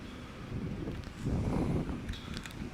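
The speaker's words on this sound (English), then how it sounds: "Very windy, it's after storm." Gusty post-storm wind buffets the microphone at night, low rumbling surges that swell and fade, with faint rustling and a few light clicks.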